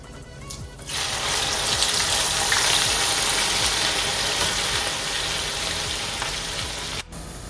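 Potato chips and okra frying in hot oil, a steady broadband sizzle that starts after a quiet second and holds evenly close by until a brief break near the end.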